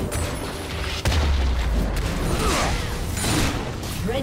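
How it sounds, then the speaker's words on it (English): A League of Legends turret collapses in a sustained heavy rumble with a low boom and crumbling mechanical debris, sitting under continuous game-battle noise with a brief voice. "Red team's turret has been destroyed."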